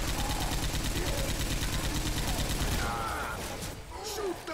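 Rapid sustained gunfire in Left 4 Dead 2 during a tank fight, a dense rattling stream of close shots that continues for several seconds before thinning out, with faint voices underneath.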